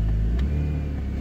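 A BMW E46 330xi M-Sport engine idling with a louder aftermarket exhaust, heard as a short, steady, deep rumble close by, with no talking over it.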